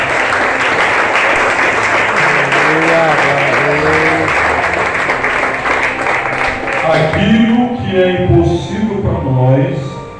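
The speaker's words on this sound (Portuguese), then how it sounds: "vamos aplaudir o Senhor" Standing congregation applauding during an evangelical worship service, a sustained dense clapping that carries under singing and voices, then thins as talk and music rise toward the end.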